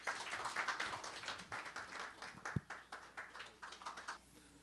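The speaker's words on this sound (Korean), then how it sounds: "큰 박수로 모시도록 하겠습니다" Steady clapping from an audience at a construction-industry breakfast forum, welcoming a speaker, fairly faint and even, with one sharp knock partway through.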